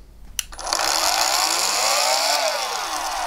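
An inexpensive cordless household angle grinder with a locking switch and soft start switches on and ramps up to a loud, steady high-pitched whine, close by, then the pitch dips slightly under load.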